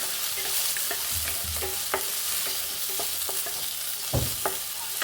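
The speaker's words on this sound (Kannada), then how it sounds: "ಈರುಳ್ಳಿ, ಬೆಳ್ಳುಳ್ಳಿ, ಶುಂಠಿ ಇಷ್ಟನ್ನು ಹಾಕ್ಕೊಂಡಿದ್ದೀನಿ. ಸ್ವಲ್ಪ ಚೆನ್ನಾಗಿ ಫ್ರೈ ಮಾಡ್ಕೊಳ್ಳೋಣ." Onion, garlic, ginger and cashews fry in a pan with a steady sizzle while a spoon stirs and scrapes in irregular knocks, one louder clatter near the end; no one speaks.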